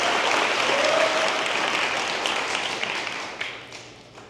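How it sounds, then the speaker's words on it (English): An audience at a college commencement ceremony applauds in a full, dense round of clapping that is loudest at the start and gradually fades. "Give him a round of applause."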